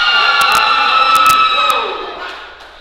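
Powerlifting crowd at a regional championship erupts after a 135-kilo lift, loud cheering and shouting over sharp slams and thuds, then fading toward the end.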